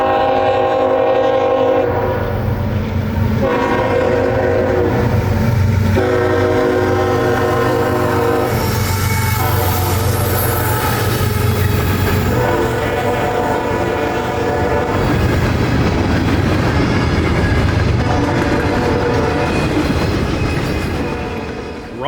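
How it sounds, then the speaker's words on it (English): A CSX manifest freight train, M647, passes close and loud, its horn blaring in several long blasts over the steady rumble and clatter of rolling freight cars. "coming south now is manifest freight M647, southbound from Chicago to Waycross daily"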